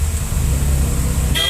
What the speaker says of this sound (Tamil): அந்த அளவுக்கு டிராஃபிக் இருக்குது.